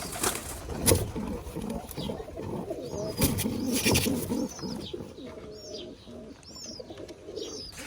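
Pigeons coo repeatedly in a farm loft where white Bombay pigeons nest and sit on eggs, with soft, overlapping rumbling calls close by and occasional higher chirps throughout.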